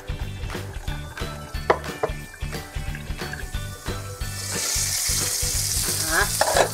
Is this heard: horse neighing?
no